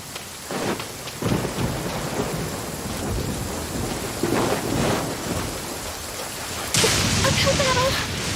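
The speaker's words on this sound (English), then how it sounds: "Marching in the rain conceals the sound of our arrival, but it's also a test of stamina." Steady rain with rolling rumbles of thunder in the video game Genshin Impact, a constant downpour that swells into a louder, brighter burst of storm near the end, with no talk over it.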